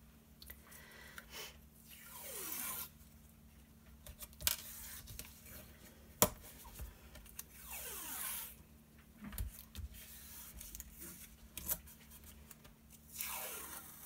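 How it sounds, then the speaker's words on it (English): Tape pulled off a roll and pressed down during scrapbooking, giving several quiet rasping tearing strips with soft taps between them, close and alone. "Let me get this taped really quick."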